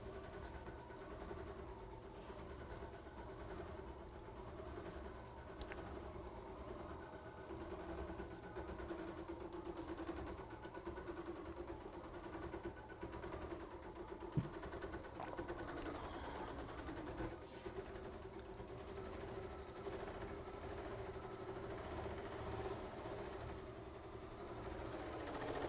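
A sewing machine quilting an Erin crossbody bag from a Kimberbell Material Girls design runs in a steady, quiet mechanical whir with a constant rapid stitching rhythm throughout.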